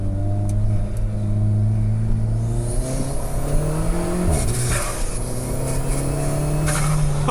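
An Alfa Romeo 4C Spider switched into race mode pulls hard, its engine note climbing steadily in pitch with a brief dip at a gear change before rising again, loud and close from inside the car.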